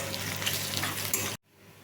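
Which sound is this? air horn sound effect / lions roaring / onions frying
onions frying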